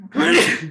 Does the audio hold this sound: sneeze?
yes